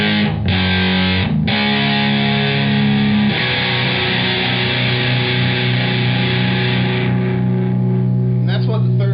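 An electric guitar plays through a Carvin X100B tube amp fitted with EL34 tubes, giving a loud, distorted, sustained tone with held chords and a few brief breaks, close and continuous.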